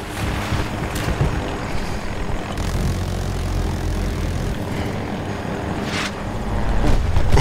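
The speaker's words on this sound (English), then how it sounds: "Chopper over there on ping, PJ" Helicopter rotor and engine drone in the Battlefield 2042 open beta game, a steady broadband roar with swelling whooshes, loud throughout and building toward the end, with no talking.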